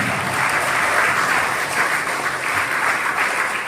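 A church congregation at a Third Advent Sunday Mass claps together in praise of God, a dense, even wash of applause that holds steady throughout, with no talk over it.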